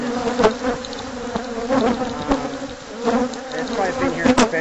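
Dense, steady buzzing of many bees swarming around a large, long-established hive, close and loud, with a few sharper passes of single bees near the end.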